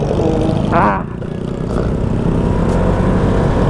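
A scooter, an NMAX, jolts over a big pothole at railway tracks, a short thump of suspension under the steady engine drone and road rumble while riding.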